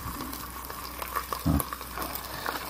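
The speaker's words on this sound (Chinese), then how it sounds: "然后再煎个鸡蛋" An egg fries in a pan on an LPG gas stove, giving a steady crackling sizzle with a brief louder thump in the middle and no talking.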